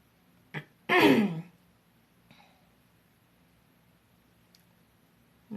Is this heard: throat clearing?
yes